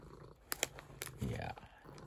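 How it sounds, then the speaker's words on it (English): A cat purring loudly while resting on a shelf in a home office, a low rumbling purr under soft close speech, with a few sharp clicks in between. "She's sitting here just purring very loudly."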